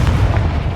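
An explosive spell like Bombarda or Confringo going off in the Hogwarts Legacy video game, a loud, heavy, low rumbling boom that fills the whole short moment, with no voices.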